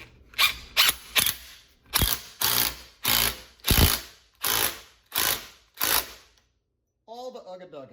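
Impact wrench with an extension rattling on a GM square body 208 transfer case, nine short hammering bursts in a steady rhythm, close and loud, followed by a brief voice after it stops.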